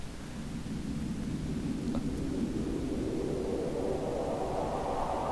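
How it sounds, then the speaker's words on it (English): A steady, roaring rush of gale wind in Minecraft, modded, blows without pause, a dense low whoosh that stays loud and constant throughout. "That, like, crazy wind sound effect"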